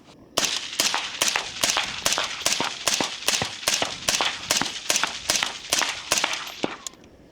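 A suppressed 5.56 rifle fires 15 rounds in quick succession during a suppressor test, each a sharp, loud crack at a steady, fairly rapid rhythm with no talk over it.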